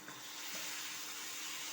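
Fried potatoes drop into a pan of spice paste frying for a homestyle vegetarian aloo dum, giving a steady, close sizzling hiss that continues evenly throughout without speech.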